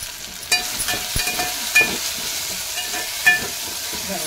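Tomatoes frying in oil for egg curry, a continuous crackling sizzle with a few sharp spoon taps and scrapes against the pan, near and moderately loud, with no voices.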